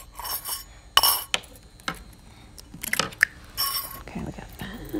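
Two eggs are cracked on the edge of a griddle for a burrito. Sharp taps and clinks come in scattered bursts, with wet squishy sounds from close by in a quiet kitchen.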